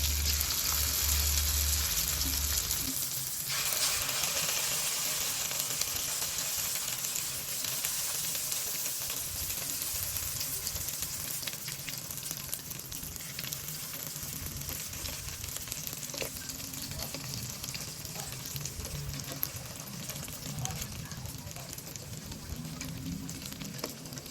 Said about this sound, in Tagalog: Tapos ipiprito.